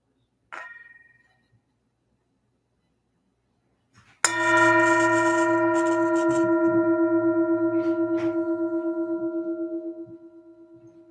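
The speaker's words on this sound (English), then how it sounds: "I'm going to invite the bell to sound, and you're invited, if you wish, to simply enjoy the sound of the bell" A meditation bell is struck once in a quiet room, sounding a bright metallic strike that rings on with a long, steady, slowly fading hum, preceded by a faint brief tap.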